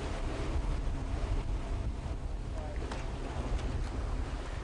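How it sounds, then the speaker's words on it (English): Waves crash along an island shore in a steady, dense roar with heavy low rumble and wind buffeting, continuous throughout with no break. "There's waves crashing along the shore, palm trees swaying in the breeze."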